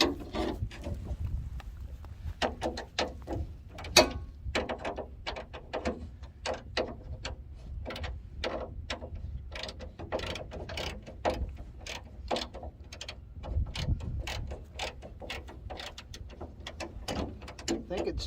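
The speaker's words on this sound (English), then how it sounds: "I'll just hold it with a pair of pliers." Pliers gripping a stripped bolt on a freight truck's rear end, giving a steady run of close metallic clicks and ratcheting taps with a faint voice now and then.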